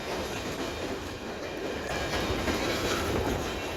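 Freight train with loaded coal cars rolling past near a river, a steady, loud rumble and rattle of wheels and cars with no pauses, heard alone without voices.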